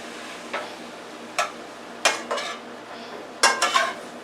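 A utensil scrapes and clacks against a pan while ground hamburger meat is turned over as it cooks, giving about half a dozen short, irregular knocks and scrapes close by, with no talking.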